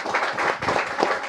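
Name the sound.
applause for the vice minister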